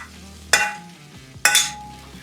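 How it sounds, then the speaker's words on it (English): Vegetables hit a hot pan for a wild turkey stir fry, with two sharp sizzling bursts that fade as they settle, under a faint background hum. "We're going to go in with our broccoli and our carrots."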